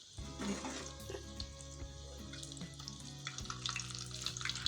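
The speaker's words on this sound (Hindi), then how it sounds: "मैंने अब टिक्कियाँ फ्राई करने के लिए अंदर डाल दी हैं" Potato patties (aloo tikki) crackle as they fry in hot oil, a near, busy sizzle with sharp pops and crackles, plus a low steady hum underneath and a few clinks of utensils.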